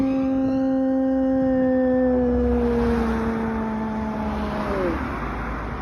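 A dog howls in a long, loud, sustained wail that slowly falls in pitch and breaks off near the end, sounding close over a steady low background rumble.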